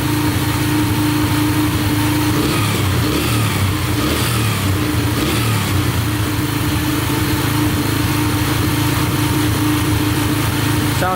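A small dirt bike engine idles steadily up close after its high idle is turned down, a continuous buzzing putter with slight fluctuations in pitch.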